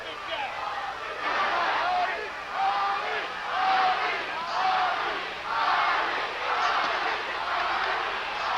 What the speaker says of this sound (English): Crowd screaming, chanting,